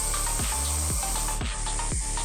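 A viper caught at home hisses loudly and close by in a run of rough, breathy bursts that repeat every half second or so.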